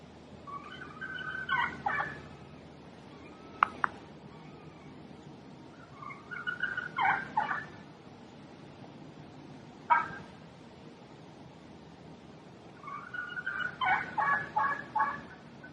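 Wild turkey hen calls ring out in repeated bursts of clucks and yelps in the woods, with a few sharp snaps between them, over steady outdoor background noise.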